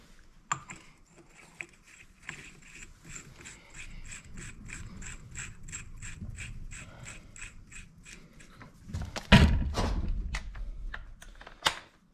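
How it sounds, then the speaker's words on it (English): A ratchet wrench turns a flywheel puller to pull the flywheel off a Kawasaki KLX 110 engine. It makes a long run of quick, even clicks, followed by a few louder metallic clunks near the end. "Next, we're going to remove the flywheel. Best thing, invest in a puller."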